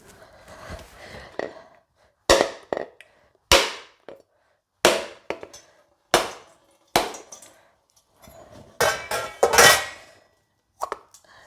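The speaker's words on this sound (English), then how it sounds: "Now I'm going to break the coconut." A coconut is struck repeatedly with a hard tool in a home kitchen, giving sharp, loud cracking knocks spaced about a second apart, with a quick cluster of hits near the end.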